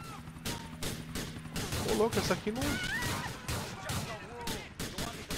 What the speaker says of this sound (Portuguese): Troca de tiro intensa aí, hein.